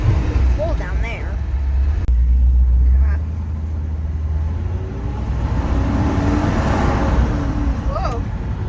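A 1969 Ford F100 pickup with a stick shift drives along, its engine a steady low rumble with road noise throughout, while people talk over it in the cab.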